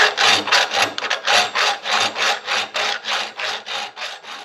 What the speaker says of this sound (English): I'm using a rat tail file here and moving it down.